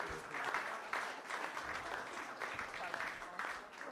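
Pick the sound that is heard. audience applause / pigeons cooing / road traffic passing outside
audience applause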